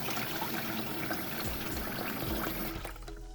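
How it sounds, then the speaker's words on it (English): Running water pours from a tap onto a sponge, a steady close splashing trickle that fades out near the end with no one talking. "wet your sponge under running water and squeeze out the excess"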